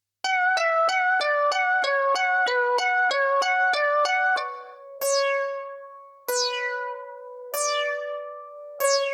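Resonant Disc arcade synth sample from a vintage synth collection: a fast run of bright, bell-like plucked tones stepping through a melodic pattern, then four slower, ringing hits that decay with falling overtones, loud and alone.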